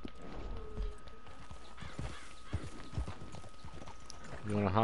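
Horse hooves clip-clop in an even rhythm at a walk in Red Dead Redemption 2, fairly close, with a faint steady tone in the background and a brief swell near the end.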